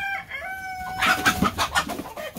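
Chickens in a coop sheltering from snow and sleet cluck and squawk loudly and close by, one bird giving a drawn-out crowing call before several choppy, overlapping clucks follow.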